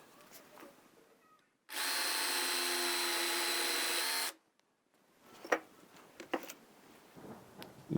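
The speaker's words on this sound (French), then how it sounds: "Ici, je vais utiliser une mèche de 2 mm 5 qui permettra de faire passer les clous dans les pinces à linge." A power drill with a 2.5 mm bit bores into a wooden batten in one steady, loud whine lasting about two and a half seconds, followed by quieter knocks and handling sounds.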